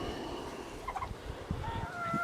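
Mixed flock of meat chickens with a rooster among them, giving faint clucks and short calls close by over a steady farmyard background hum.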